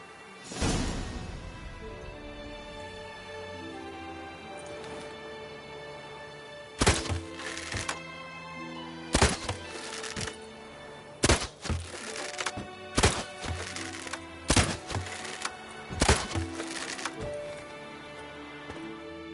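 In a PS4 video game, a rapid series of sharp impacts rings out as shots strike red targets, with irregular clusters of loud hits over a sustained background score.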